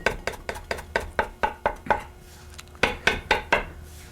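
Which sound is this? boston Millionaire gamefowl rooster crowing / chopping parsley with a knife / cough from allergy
chopping parsley with a knife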